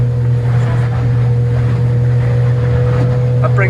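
A Yamarin 59c boat's Yamaha 100 HP outboard holds a steady, loud drone at about 4000 RPM, a constant low hum with wind and water rush running the whole way through.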